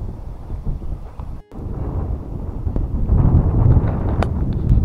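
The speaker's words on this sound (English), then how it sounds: "If you can hear me over the wind" Wind buffeting a microphone on a Murray River levee, a continuous rough rumble that briefly drops out and then grows stronger and gustier toward the end.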